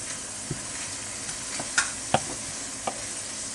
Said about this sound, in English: And in goes the bacon!